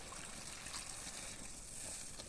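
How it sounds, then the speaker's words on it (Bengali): Half a bowl of water poured slowly into a curry at an outdoor village picnic cookout, a steady soft trickle running continuously, fairly quiet and unbroken, with no talk. "আধা বাটি জল আস্তে আস্তে করে মিশিয়ে দিচ্ছি"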